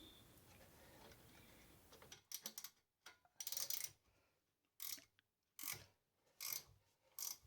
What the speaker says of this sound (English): Then I can use a ratchet wrench.